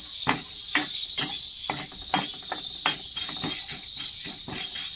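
Popcorn kernels tossed with turmeric powder begin to pop in a covered pan on medium flame: sharp, scattered cracks arrive irregularly, several per second, over a steady high sizzle close by.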